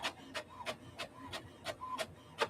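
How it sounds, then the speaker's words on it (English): A desktop printer pulling in and running through a sheet of paper for a handmade single-signature journal, giving a steady series of rhythmic mechanical clicks and short whirring pulses at close range, with no talking. "we're waiting to see if the printer's going to accept this piece of paper"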